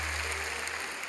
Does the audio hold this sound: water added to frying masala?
no